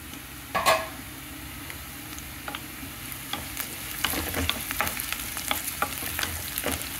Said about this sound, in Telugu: ఉల్లిపాయ ముక్కలు వేగిపోయినాయండి